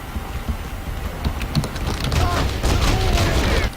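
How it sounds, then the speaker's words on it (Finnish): Machine-gun fire in a video game: a loud, dense, rapid crackle of shots that runs steadily for about four seconds with no talking. "Joo, konekiväärillä ammun, sori."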